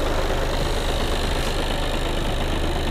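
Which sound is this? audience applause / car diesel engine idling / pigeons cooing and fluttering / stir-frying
car diesel engine idling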